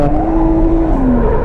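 A Subaru WRX STI on a track with worn tyres drones loudly and steadily at close range, its engine note holding a sustained pitch that shifts slightly near the end.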